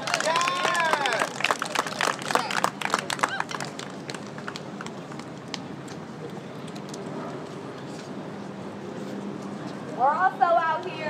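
Street protesters at a night protest in St. Louis clap in scattered, uneven bursts amid crowd noise, with a loud voice shouting over them and another voice rising near the end.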